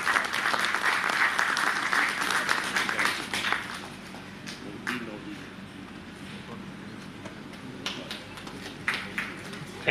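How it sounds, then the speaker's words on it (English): An annual general meeting audience breaks into loud, dense applause for an honoured speaker that fades after a few seconds into scattered single claps, with voices murmuring in the hall. "Big round of applause for Dr."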